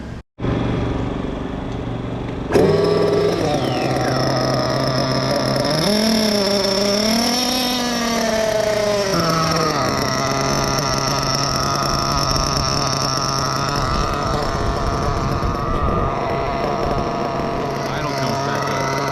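A 1/8-scale nitro RC buggy engine screams on a track, revving up and down through a wavering high whine before settling into a steady loud buzz, close by and continuous.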